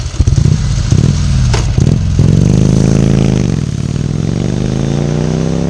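1954 Victoria Bergmeister V35 motorcycle being ridden, its engine loud and near, clattering as it starts off, then revving up and pulling away in a sustained, rising and falling drone.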